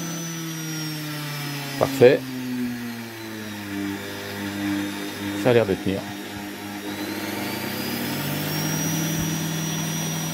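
A homemade roller sander powered by a washing machine motor runs with a steady whining hum that shifts in pitch as the speed changes, broken by a few brief knocks, while someone talks.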